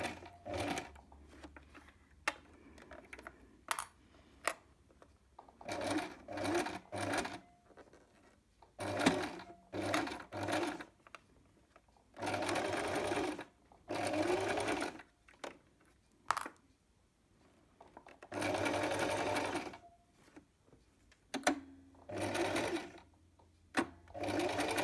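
Domestic sewing machine stitching an invisible zipper close to the teeth, running in repeated bursts of steady whirring with short pauses between, fairly quiet and close, with no talk over it.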